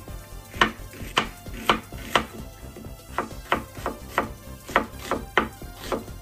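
Knife chopping onion on a cutting board while preparing dishes for a 20th birthday celebration, about a dozen sharp, evenly spaced thunks in a steady rhythm, close and clear with no talking.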